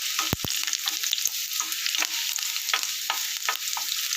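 Onions being fried with garlic and stirred in a pan for drumstick fry, a bright continuous sizzle broken by repeated spoon scrapes and taps against the pan, close and alone.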